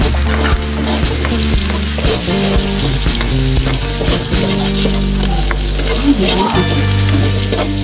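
Chopped onions sizzle and fry in a hot pan for pork pochero, a steady close crackle with occasional stirring scrapes and clatters, with no voices over it.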